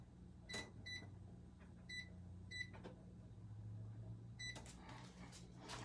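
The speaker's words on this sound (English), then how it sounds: "Let me set my timer on my microwave." Microwave oven timer being set in a home kitchen while making banana chocolate vegan donuts: five sharp electronic keypad beeps at uneven intervals, faint and close, over a low hum and a soft click.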